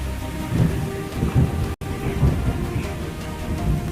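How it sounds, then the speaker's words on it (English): Heavy rain pours over the African savanna grasslands during a thunderstorm, with a dense steady hiss of drops and low rolling thunder beneath, broken by one brief dropout. "The first rains touch the earth like drops of life, bringing vitality to the grasslands."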